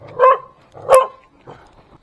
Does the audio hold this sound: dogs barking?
yes